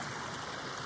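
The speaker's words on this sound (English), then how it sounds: "There's a little waterfall in the creek, in the muddy creek right now." Continuous rushing of water from a little waterfall in a muddy creek, close and steady for a brief moment with no voices.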